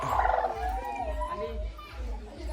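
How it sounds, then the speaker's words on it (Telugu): A village hen clucks in short bursts near a woven bamboo basket in a tribal hill village, with faint background voices and low rumbling noise. "కోడి."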